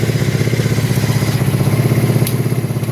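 A 1984 Kawasaki Prairie KLT250 ATV engine, a barn find, idles close by with a steady, even chugging pulse and no ticking, loud and continuous with a brief clack near the end.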